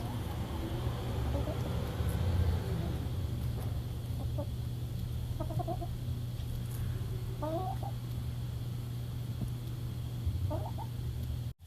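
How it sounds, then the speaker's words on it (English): Sunbathing chickens give soft, scattered clucks in short bursts of two or three notes, a little distant, over a steady low outdoor hum. "Sunbathing chickens."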